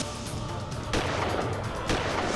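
Two sharp gunshots about a second apart, cutting through a loud, rumbling background, with no voices.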